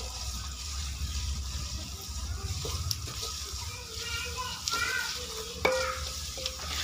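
Ginger garlic paste frying with salt in a pan while cooking eggplant bhujia, a steady close sizzle with stirring scrapes and a few clinks, no voices over it.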